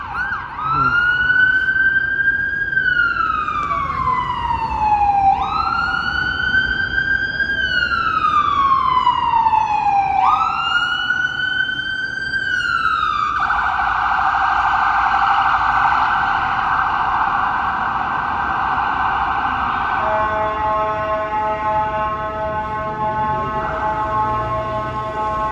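A fire truck stuck at a light in Toronto traffic sounds its siren loudly and close, several rising-falling wails giving way to a steady blaring tone and then a pulsing horn-like blast.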